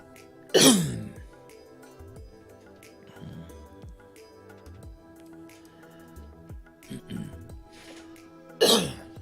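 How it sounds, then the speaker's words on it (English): Two sharp, loud coughs, one near the start and one near the end, separated by quiet clicks and faint background noise. "Sorry about my cough."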